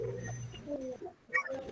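Soft, low pigeon cooing repeats in short murmuring phrases, with a few faint higher chirps near the end.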